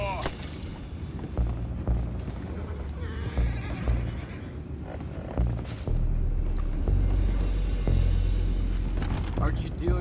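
Horses whinnying and neighing amid clattering hooves and heavy thuds, with voices talking underneath in a busy scene from Red Dead Redemption 2.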